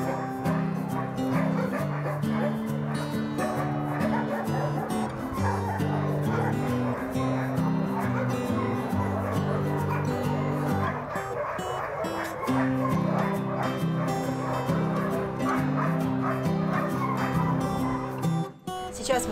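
Dogs at a dog shelter bark and yip steadily over a continuous bed of music-like tones, with occasional whimpers mixed in throughout; the barking stays fairly close and loud.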